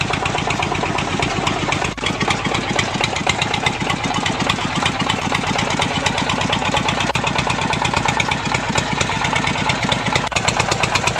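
Old diesel tractor engine running steadily while fording a flooded river with a full load, a loud continuous chugging rumble with even rhythmic firing throughout, no voices.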